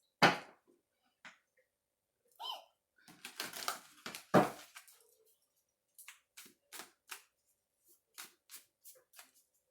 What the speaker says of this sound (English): These are such stiff cards.